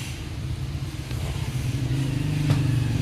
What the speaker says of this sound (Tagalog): Siya ay dini naman banda ay maraming dadaan ng mga sasakyan.